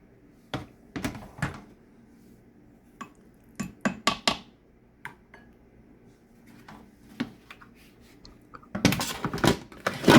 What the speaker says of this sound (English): Just going to mix it together, and I'm going to cover it